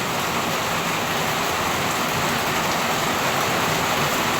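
Heavy rain pours down in a dense, continuous hiss, loud and unbroken, with no voices.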